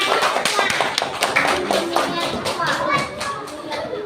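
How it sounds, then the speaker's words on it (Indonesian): Children in a classroom clap together after answering questions, brisk uneven hand claps close by with young voices chattering underneath. "Beri tepuk tangan"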